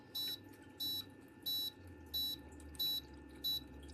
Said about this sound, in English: Like nothing I do will stop the beeping.